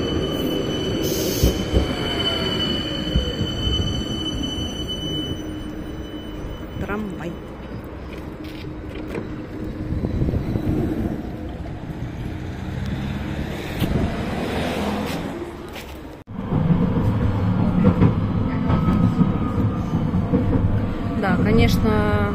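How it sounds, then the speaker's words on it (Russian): A modern tram in Saint Petersburg near Avtovo rumbles along the rails, with squealing wheels and metallic clatter growing louder as it nears; a person talks over the noise. "вот он идет, мой трамвайчик"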